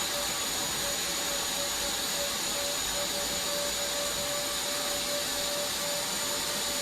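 A BJC1923 industrial vacuum cleaner runs with a steady, loud roaring hiss and a constant whine throughout, with no one speaking.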